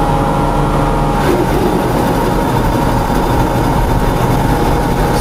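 A Bourgault 7000 air seeder runs through a functional test with no product loaded, giving a loud, steady mechanical drone with a constant low hum and a persistent tone throughout.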